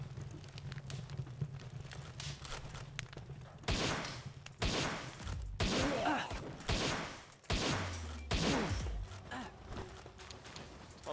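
Player's gun firing in Palworld: a few sharp shots and short bursts ring out in the middle and later part, fairly close and loud, with quieter game ambience between them.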